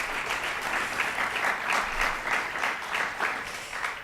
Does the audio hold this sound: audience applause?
yes